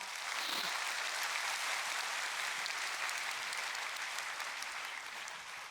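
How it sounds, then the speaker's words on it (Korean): Lecture-hall audience applauding after a public natural science talk on chemistry for carbon neutrality, a steady, sustained wash of clapping that fades slightly toward the end. "수준 높은 강연을 들려주신 황현종 교수님께 다시 한번 큰 박수 부탁드리겠습니다"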